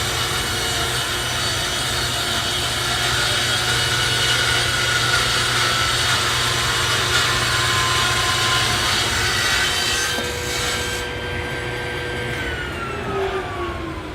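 A wood slab board is run against a saw fence to square its edge, giving a continuous loud whining cut that holds steady for about fourteen seconds, with no one speaking.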